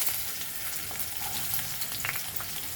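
Onions sauté in two tablespoons of oil in a pan for Goan squid ambot tik, a close, continuous crackling sizzle with faint stirring ticks, no talk.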